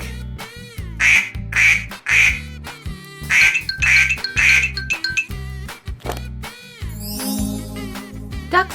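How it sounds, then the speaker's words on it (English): Cartoonish duck quacks over a bouncy children's farm-song backing, several rhythmic quacks in quick succession, loud and up front. "They make the sound quack quack and waddle when they walk."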